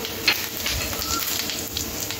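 Dried red chillies and cumin seeds hit hot oil for a dal tempering, a brief, steady crackling sizzle heard up close.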